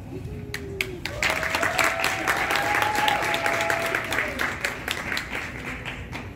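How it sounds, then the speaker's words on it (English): Sustained audience applause at a Miss Africa Nevada 2021 pageant, dense steady clapping from a crowd throughout, with a sustained tone and voices mixed in above the noise. "Okay, give her another round of applause."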